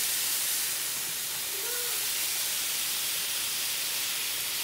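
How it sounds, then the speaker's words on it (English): Meat sears in a hot pan with a loud, constant hiss that holds evenly throughout, close by and steady with no breaks. "I want to sear it. I want to brown it on both sides."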